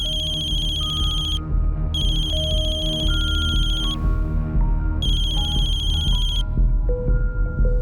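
A mobile phone rings with a loud, repeating electronic melody that plays continuously and close, layered with a pulsing high tone that cuts in and out.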